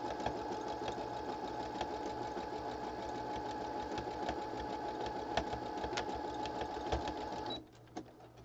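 Sewing machine stitching down a fabric patch, a steady close mechanical whir that runs for several seconds and then stops abruptly, followed by a brief clack.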